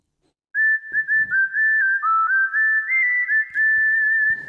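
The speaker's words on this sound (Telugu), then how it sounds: "మళ్ళీ విజిల్ వాయిస్లో" A keyboard's whistle voice plays a song melody alone: a clear, sustained whistling line of gliding notes that starts after a moment of silence and carries on steadily with brief breaks between phrases.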